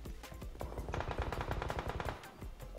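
Gunfire in the mobile battle-royale game PUBG Mobile, heard as rapid automatic bursts of shots with a slight pause near the end, fairly quiet and distant in the game's mix.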